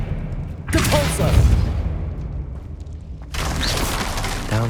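Spell blasts in the Hogwarts Legacy video game, two loud bursts of booming, whooshing impact noise with a quieter rumbling gap between them.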